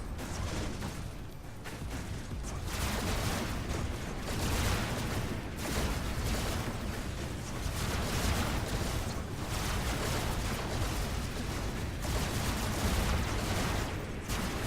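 Rapid, continuous Mega SMG gunfire in the Robocraft robot-battle game, a dense unbroken stream of shots at steady loudness across the whole stretch, with no talk over it.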